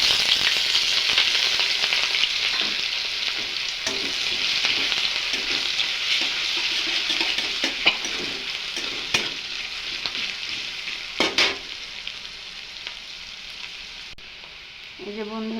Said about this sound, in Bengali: এখন দিয়ে দেব অল্প একটু রসুন আর পেঁয়াজ কুচি।